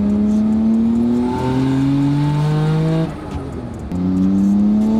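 Nissan Skyline GT-R R34 engine under way, heard from inside: a loud, strong drone that climbs in pitch through the revs, briefly drops and dips at a gear change, then pulls up again.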